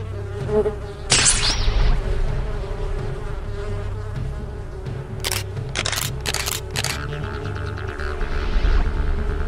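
Several sharp buzzing bursts, like insects zipping past close by, over a steady low hum, with a few clicks in between, from robotic bees.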